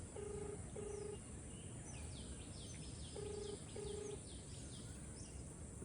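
A phone call on speakerphone gives a ringback tone in two pairs of short, clear pulses, with faint bird chirps twittering in the background.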